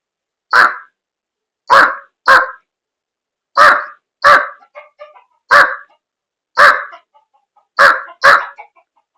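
A man mimics a jungle crow's call with a series of short, harsh caws in uneven pairs and singles, loud and close, separated by silence.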